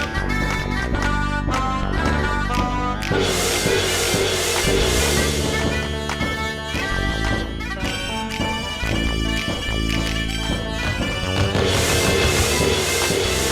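Busy Wii Music game-style music with several instruments layered together, steady and bright, shifting sections every few seconds, playing alone without voices.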